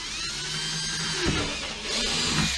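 A power drill whirs steadily in two sustained bursts with a short dip between them, drilling holes for a chicken water system, loud and close, with no voices.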